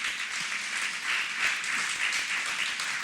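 A church congregation applauding together, a steady dense wash of many hands clapping for about three seconds at a moderate, even level.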